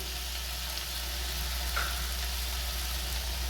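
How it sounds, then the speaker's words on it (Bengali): Vegetables, chicken and prawns stir-frying in hot oil for restaurant-style Kolkata gravy chowmein, a constant close sizzle with a low steady hum underneath and a brief scrape partway through; no talking. "সব সবজি, চিকেন, চিংড়ি কষানোর সময় আমি এখানে হাফ চামচ মতন গোলমরিচ গুঁড়ো দিয়ে দিচ্ছি।"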